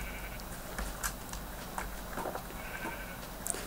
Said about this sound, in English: Most precisely a sheep.